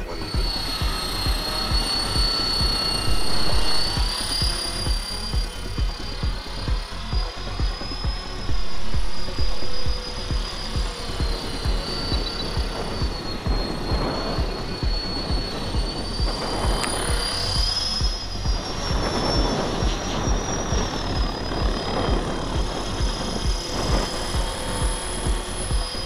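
A radio-controlled Blade 400 helicopter flies mild 3D stunts outdoors. Its rotor whines steadily and loudly, with a constant high tone and engine buzz that rises and falls as it moves through the maneuvers, and nobody speaks.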